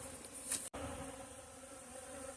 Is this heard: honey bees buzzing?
yes